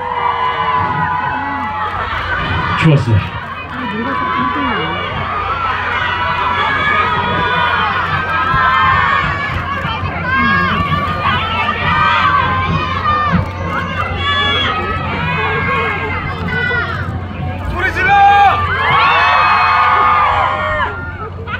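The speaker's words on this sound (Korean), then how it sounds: "멋진 무대를 보여준 전우들에게 큰 박수 한 번 더 부탁드리겠습니다." A crowd at a military culture expo busking stage in Gyeryong cheers and shouts loudly, with a voice speaking over the noise and a burst of whooping near the end.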